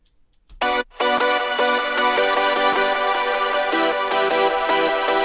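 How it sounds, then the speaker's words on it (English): Clean hardstyle synth chords layer made in Sylenth1, with little distortion or detune, playing a steady chord pattern that starts after a short click, loud and bright with nothing else under it. "So this is the first chords layer, and it's, as you can hear, it's quite clean, so not too much distortion or detune"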